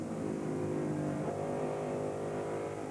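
NASCAR Winston Cup stock cars at the 1992 AC Delco 500 race on the track, a continuous loud engine roar that holds steady and swells slightly as the cars run on without a break.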